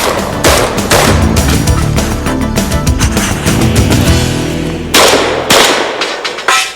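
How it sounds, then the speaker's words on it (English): Combat shotgun fired in rapid, relentless succession, loud sharp blasts packed so tightly they blur into a continuous barrage, with a brief gap and a few final separate shots at the end. "his ability to handle, operate, and shoot the combat shotgun"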